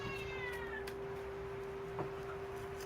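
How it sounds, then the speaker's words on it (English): A faint cat meow, drawn out and plaintive, heard at a distance against a quiet background with a steady hum. "Now you can hear the cat crying."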